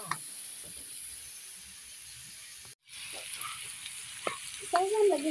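Food frying in a pan, a steady soft sizzle and hiss running throughout with small crackles, a brief gap, then a faint voice over the sizzle near the end.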